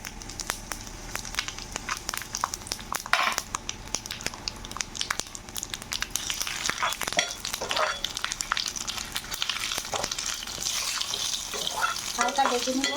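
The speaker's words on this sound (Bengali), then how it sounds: "হালকা ভেজে নিব" Bay leaves and panch phoron spices frying in oil for khichuri sizzle and crackle steadily up close, with scattered pops and stirring scrapes throughout.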